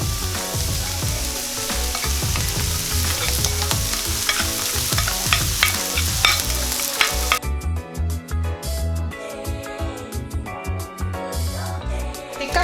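Fried rice stirred in a hot pan, with rapid, repeated scraping and clattering over a constant close sizzle, the stirring turning sparser and more irregular toward the end.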